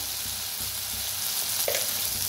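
Onion and tomato fry with turmeric in a pan for masoor dal, giving a steady, close sizzle with faint stirring scrapes.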